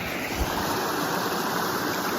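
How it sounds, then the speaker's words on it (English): A waterfall at the end of an hour-long walk, reached on a solo motorcycle camping trip, roars in a constant broad wash of churning water, close and loud with no talk over it. "I've arrived at the waterfall."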